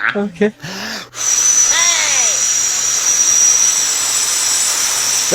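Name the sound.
voice imitating an airplane engine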